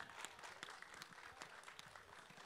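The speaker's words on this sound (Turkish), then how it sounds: "Ve yine kocaman alkışlarınızla Türkiye'nin en büyük spor yorumcularından biri Uğur Karakullukçu geliyor." Studio audience applause for a guest arriving on a Turkish talk show, a steady dense clapping at moderate distance, fairly faint throughout with no talk over it.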